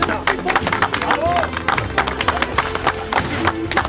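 An audience claps at a kart racing endurance awards event at Racing Kart du Mans, loud uneven clapping mixed with crowd murmur and a voice talking over the applause.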